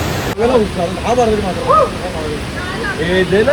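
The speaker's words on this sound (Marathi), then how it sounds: "पाण्याचा आवाज पण येत असेल फुल" A steady broadband wash of rushing water fills the clip at Khopoli in the rainy season, with someone talking over it throughout.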